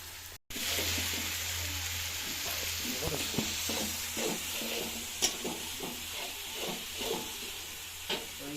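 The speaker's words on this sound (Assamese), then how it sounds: "এইখিনি ধুনীয়াকৈ ভাজি লওঁ" Cumin paste frying with mutton curry in a pan for a village-style goat curry, a steady close sizzle with repeated stirring scrapes throughout, briefly cut off near the start.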